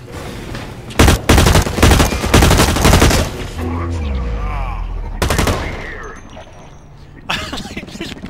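Gunfire in the first-person shooter Blacklight Retribution comes as loud, close bursts of rapid automatic shots, with pauses between the volleys and a player talking over parts of it.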